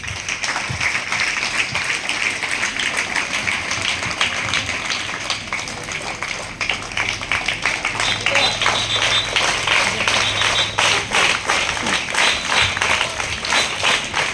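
Steady audience applause fills the hall after a talk about Indian space scientist Venkataraman Radhakrishnan, a dense, even wash of clapping at moderate loudness that runs unbroken for the whole stretch.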